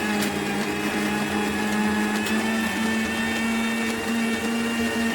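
A mixer grinder whirs loud and continuous, grinding niger seeds with garlic, curry leaves and salt into a dry chutney powder, its motor hum steady throughout with a faint rattle of the contents.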